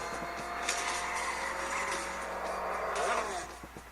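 Race car engine in the Real Racing 3 mobile game on an HTC One phone, a steady loud droning roar with shifting pitch and a brief screech, fading slightly at the end.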